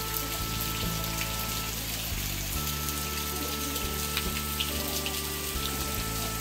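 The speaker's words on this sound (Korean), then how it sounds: "여기는 물 떨어지는 곳이 자연스 그대로라서 바닥이 패일 염려나 그런 염려는 전혀 없습니다." Water falls steadily onto natural, unpaved ground at a traditional garden pavilion, making a continuous, even splashing rush like heavy rain that fills the whole stretch without pause.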